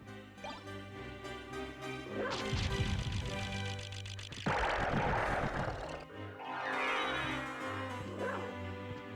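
A dog barks a few times in Castlevania: Symphony of the Night, short yips and whimpers mixed with in-game music, dripping and crashing effects throughout.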